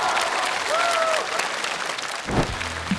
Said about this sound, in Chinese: 那让我们把热烈的掌声再次送给一佳。